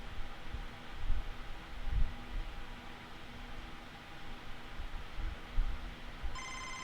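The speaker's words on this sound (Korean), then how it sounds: "아, 이거 전화 왔습니다. 제대로 왔어요." A phone rings inside the baseball game MLB The Show 25, a steady electronic ringing tone heard alone over a soft background hiss, ending in a brief brighter chime.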